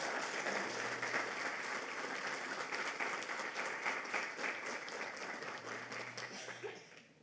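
A church congregation breaks into sustained applause in praise, a dense wash of many hands clapping at steady strength for several seconds before tapering off, with a faint murmur mixed in.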